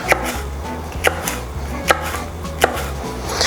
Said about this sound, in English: you're just going to want to slice them pretty thin